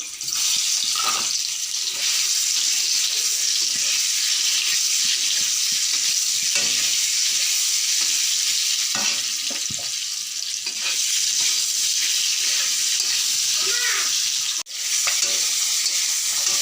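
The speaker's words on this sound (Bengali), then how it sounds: "প্রথমে ডিমগুলো বাজিয়ে নেব।" Boiled eggs frying in hot oil in a pan, a continuous close sizzle and crackle with occasional stirring scrapes and a sharp clink near the end.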